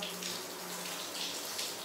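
Cold shower water pours in a steady, close hiss with no pauses, alone and without voices.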